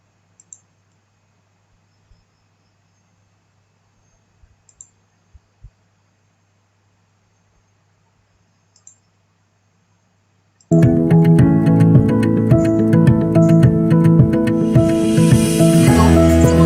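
A rotary microtome slicing sections as its wheel turns: faint isolated clicks, then a loud, steady mechanical whir with rhythmic ticking that runs on continuously to the end.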